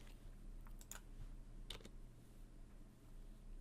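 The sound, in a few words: clicking and typing on a computer keyboard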